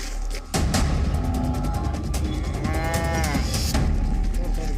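A buffalo moos loudly and close, a long low bellow lasting several seconds with rising and falling pitch, heard alone over a rough background.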